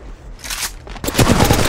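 Gunfire in the mobile game Apex Legends Mobile: a short opening burst, a brief gap, then sustained rapid automatic shots crackling close and loud.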